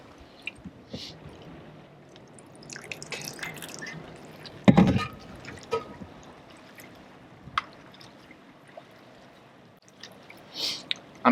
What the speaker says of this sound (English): That's working good though, to add that little bit of water to it.